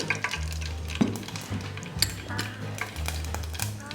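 Cumin and mustard seeds sizzle in hot oil for a tempering, a steady close crackle with scattered pops and occasional spoon taps on the pan, while a low tonal hum runs underneath.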